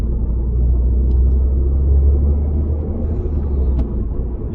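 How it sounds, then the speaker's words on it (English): A Citroen DS3 fitted with a performance induction kit rumbles with a deep, steady engine drone from inside the car, heard alone and fairly loud, without a clear gear-change burst standing out. "There's a nice sound at the end of changing gears"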